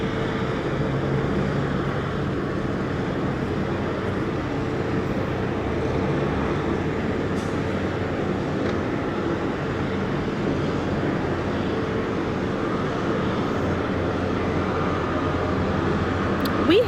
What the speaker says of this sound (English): We saw this train come in, and it was full of